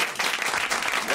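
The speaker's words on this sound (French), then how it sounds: "On applaudit" A studio audience at a French television talk show gives a short burst of lively clapping, a dense patter of many hands lasting just over a second.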